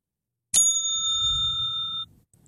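A single bicycle bell ring sounds clearly on its own, one sharp strike followed by a bright, steady ringing tone that holds for about a second and a half before cutting off.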